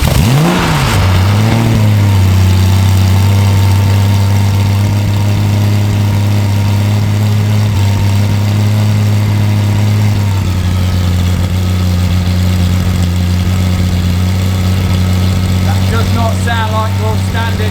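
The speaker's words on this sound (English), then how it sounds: "Bit of a cold start on the Cup Car." A Porsche 996 GT3 Cup race car engine cold-starts with a sharp rev, then settles into a loud, steady, lumpy idle close by, with a brief blip near the end.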